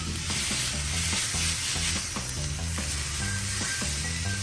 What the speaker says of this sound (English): So now we're gonna just keep flipping it.